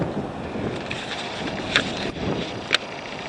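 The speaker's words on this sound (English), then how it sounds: "This wind is killing me." Gusty wind buffets the microphone outdoors as a Tecumseh HM80 carburetor is being rebuilt, a steady low rumble of blustery noise with two brief sharp knocks over it and no voices.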